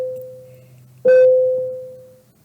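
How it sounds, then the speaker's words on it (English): A bell rings in the background with a single clear struck tone that rings out and slowly fades over about a second and a half, following a faint steady hum, with no talking. "Excuse the bell in the background."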